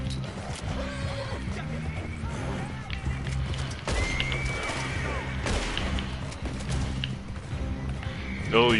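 A horse neighs and whinnies amid gunfire and thuds during a Red Dead Online multiplayer gunfight, with hooves clopping and sharp impacts scattered through the mix; the horse calls come in short bursts over the din.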